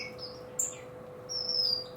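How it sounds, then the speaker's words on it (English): Finches in an outdoor aviary give two short, high, clear chirps, one brief and one longer, over a faint steady background hum, with no one talking. "birds are back in the aviary"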